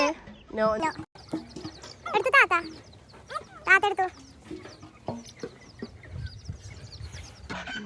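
A chicken clucks in short bursts close by, mixed with people talking over it.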